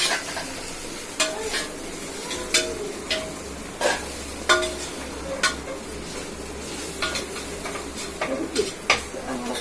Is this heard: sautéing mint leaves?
yes